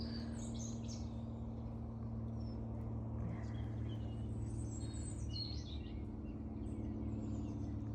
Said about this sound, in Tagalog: Marinig mo yung ibon.